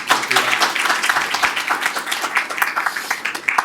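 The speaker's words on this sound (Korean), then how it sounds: "일단 큰 박수로 환영해 주시기 바랍니다." Audience applause greeting a former vice minister of health and welfare at a Korean policy lecture, a dense, steady patter of many hands clapping fairly close with faint voices underneath.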